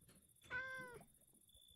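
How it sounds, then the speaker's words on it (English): A cat meows once in a clear, close, rising-and-falling call, heard alone over a quiet background with a steady faint high tone. "Yes, cat."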